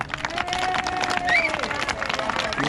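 Audience applause and cheering in a Rochdale hall as a speaker, Sir Razumir, is welcomed, a dense steady wash of clapping with crowd noise throughout.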